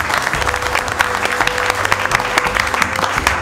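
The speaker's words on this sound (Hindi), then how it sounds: "और एक बार मोहम्मद सर के लिए जोरदार ताली।" Loud, steady applause fills a live repair class for mobile phone technicians, an unbroken crowd of clapping hands with a faint tone running underneath.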